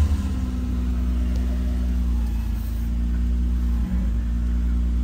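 A car engine idles steadily after a cold start, a low, even hum with a constant drone, close and unbroken for a few seconds, with no voices.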